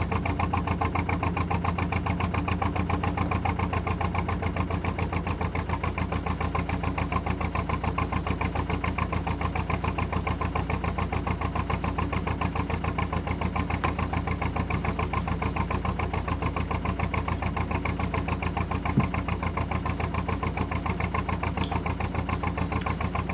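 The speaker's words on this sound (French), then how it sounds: "Imaginons que ce petit moteur-là est très heureux de reprendre du service" A small motor on a little pleasure boat runs steadily, its even mid-pitched drone chugging without break, close and constant, with no voices over it.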